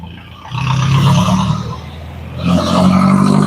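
A Husky ADB 150 motorcycle engine on a test ride revs up loudly twice, with a lull between the two rising roars, heard close and alone.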